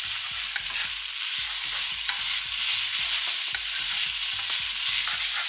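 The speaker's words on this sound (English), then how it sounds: "we're gonna add the noodles now and all the other ingredients to this mix" Noodles and mixed ingredients are stir-fried in a pan, with a steady sizzle under repeated rhythmic scraping strokes of a utensil, close and fairly loud.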